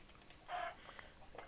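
A chicken in Minecraft gives a short, faint cluck, then a couple of quieter clucks, against a hushed game background.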